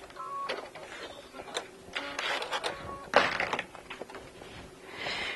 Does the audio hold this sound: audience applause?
no